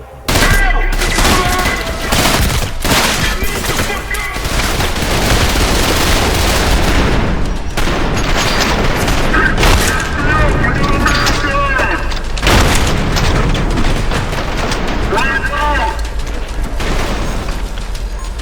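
Rapid gunfire from a fast-paced shooter game, Trepang2, dense and loud, with booming shots and bursts layered over a continuous roar of action for the whole stretch.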